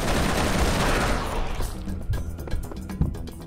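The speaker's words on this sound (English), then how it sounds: "I was only shooting a rifle at him and then just explosions and blowing up and craziness." Rifle fire and explosions in the video game Serious Sam 3: BFE during a boss fight: a dense, loud barrage of gunshots and blasts that thins into separate sharp bangs toward the end.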